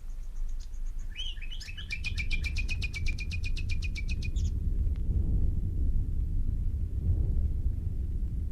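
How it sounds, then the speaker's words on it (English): Nightingales singing just before dawn in a radio play, a rapid run of repeated piping and trilling notes for about four seconds over a steady low rumbling background, then only the rumble continuing. "we heard the nightingales."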